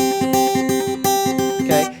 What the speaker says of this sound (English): that's just that little fluttery part that goes